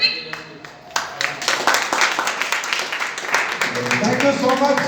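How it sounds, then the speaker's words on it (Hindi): An audience at a large company celebration event claps loudly in a dense, sustained burst of applause, with a voice heard over the clapping. "एक बार जोरदार तालियां हो जाए"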